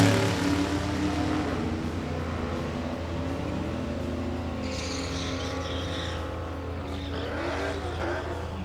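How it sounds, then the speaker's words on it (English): Drag race cars, a 1966 Plymouth Fury with a 440 Plymouth engine and a 2013 Mustang, roar steadily down the strip at a bracket finals event, a loud sustained engine drone from a distance with rising whine near the end. "we have Greg Spohr from Patoka, Indiana, and a 66 Plymouth Fury with a 440 Plymouth motor"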